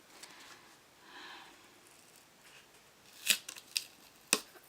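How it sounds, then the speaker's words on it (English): A few sharp snips of scissors, close up, after a quiet stretch of soft rustling; the cuts come in a short uneven cluster. "Scissors."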